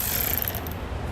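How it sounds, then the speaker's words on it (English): A ratchet with a 10mm socket works a nut loose on a 2007 Subaru Forester, a quick close mechanical clicking over a brief stretch with no voices. "Now we'll grab a 10mm socket. We're going to pull the nut off this forward attachment point."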